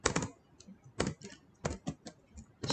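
Bursts of quick keystrokes on a computer keyboard as code is typed, clustered in short runs with brief pauses between, close and clear with no talking.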